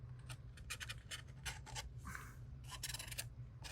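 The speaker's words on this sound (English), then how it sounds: "Now we do have some extra bits here, so I'm just gonna scrape that off." Stencil paste being scraped off a card with short, dry rasping strokes, repeated in quick bursts with brief pauses, close and fairly faint over a steady low hum.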